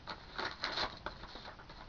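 Paper being unwrapped to pull out a trivia question card: soft, continuous crinkling and rustling with a few sharper crackles, close by but quiet, with no talking.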